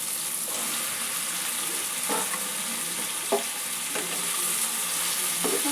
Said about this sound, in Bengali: সব কিছু একটু নাড়াচাড়া করে নেব।